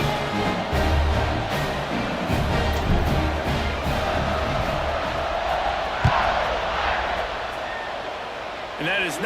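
Stadium crowd in College Football 26 roars steadily at kickoff, a dense sustained cheer with a brief sharp spike midway, commentary voices layered over it.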